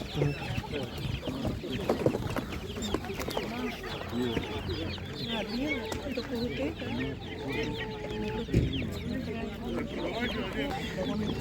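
Leghorn and Sussex chickens cluck and chatter continuously at an animal market, near and busy, while people talk over them throughout.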